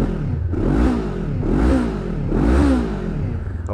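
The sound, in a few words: Honda CBR500R motorcycle engine revving, aftermarket exhaust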